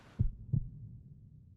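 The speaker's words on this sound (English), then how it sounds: "The heart beating." A heartbeat sound effect in an anime episode thumps twice, a low, muffled lub-dub pair close and alone over a faint hum.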